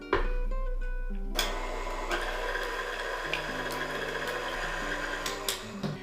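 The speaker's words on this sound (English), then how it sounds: "We're going to put this back on the stand mixer, give it a little mix on low until everything is smooth." Stand mixer beating cinnamon roll dough on low speed, a steady mechanical whir and motor hum with occasional clicks of the bowl, close and continuous throughout.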